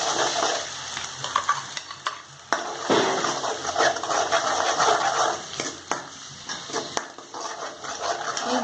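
A ground onion-tomato paste with ginger, garlic and curry leaves fries loudly in a pan for channa masala gravy, a steady dense sizzle with scraping stirs and occasional spoon knocks against the pan, no voices.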